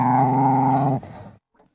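A dog growls low and loud for about a second, ending in a short rough snarl, then a faint trailing yip as a sound effect in a French read-aloud children's story.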